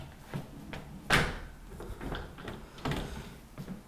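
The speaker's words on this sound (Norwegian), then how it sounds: "Så da neste, det å sette på plass den ene døra." A sliding wardrobe door from the Lind SKY range being set into its inner track, giving a series of knocks and clunks with one sharper bang, then lighter rattling and tapping.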